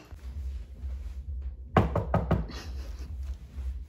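Four sharp, quick knocks on a door sound close and loud in a row, set against a low background hum.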